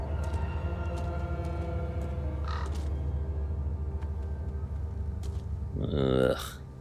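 Crow cawing from a creepy house roof in the Call of Cthulhu (2018) game, a few harsh caws late in the scene over a steady low ambient drone, with brief faint sounds scattered earlier.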